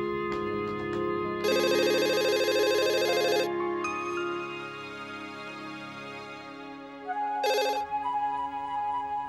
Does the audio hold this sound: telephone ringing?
yes